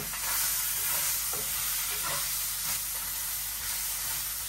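Fish fries in a pan for lau ghonto, a dense, steady, loud sizzle and spitting hiss that runs without a break, with faint stirring scrapes under it.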